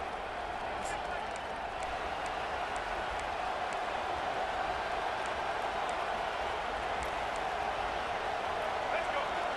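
Steady roar of a stadium crowd in the college football game College Football 25, a dense even wash of cheering noise throughout with no distinct peaks, carried under a commentator's voice.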